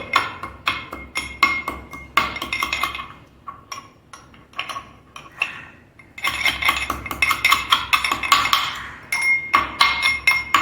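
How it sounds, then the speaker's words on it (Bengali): A pestle strikes a metal mortar over and over as mint leaves and a green chili are pounded, giving close, loud, ringing clanks in quick irregular runs with short pauses between them. "এইখানে আমল দিস্তায় একটা এই পুদিনা পাতা আর একটা কাঁচা লঙ্কা একটু থেতো করে নিব"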